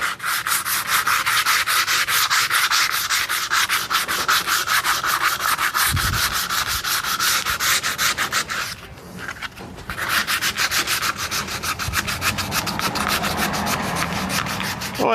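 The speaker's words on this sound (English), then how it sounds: "A little hand sanding, fine tuning." Sandpaper is worked by hand over fiberglass filler on a 2006 Mitsubishi Endeavor, a steady run of quick, close rasping strokes with one short pause midway.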